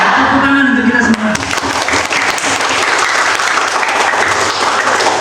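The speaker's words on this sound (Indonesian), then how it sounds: "tepuk tangan untuk kita semua." Students at a school event applaud in a loud, dense burst of clapping that runs throughout, with a voice speaking over the first second.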